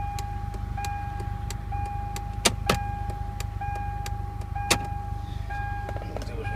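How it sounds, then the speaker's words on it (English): An electric power window on a 1999 Ford SVT Contour runs in short motor whirs, separated by sharp switch clicks and a few brief pauses, heard from inside the car. "Every single power window from my side and every single power window switch works."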